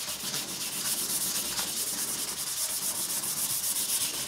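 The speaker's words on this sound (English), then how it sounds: "I've just got a piece of 400 grit, and all I'm going to do is just smooth off" A guitar fingerboard on a JJ Jewel HB90 is sanded smooth with 400 grit sandpaper in a steady, continuous rubbing hiss that holds an even level throughout.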